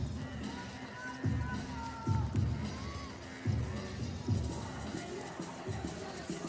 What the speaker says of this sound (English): Crowd are starting to take their seats here in the Copperbox Arena